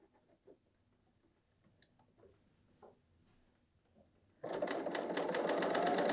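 Soft handling taps and rustles of fabric come first, then a BERNINA L 890 sewing machine starts up and sews a garment seam with a loud, steady, fast stitching whirr that continues to the end.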